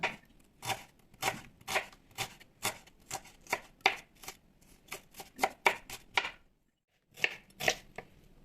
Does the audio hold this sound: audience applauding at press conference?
no